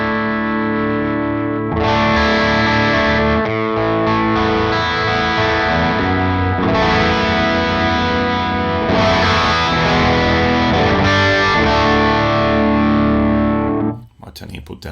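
Electric guitar played through an IK Multimedia AXE I/O One audio interface, heavily distorted with effects, sustained chords ringing loud and close in several strummed phrases before cutting off abruptly.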